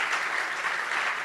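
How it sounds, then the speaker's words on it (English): Audience applause at a staking summit conference, a steady dense wash of many hands clapping together, loud and even throughout without pause. "give a big round of applause to all of the"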